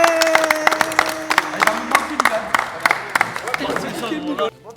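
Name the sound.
audience applause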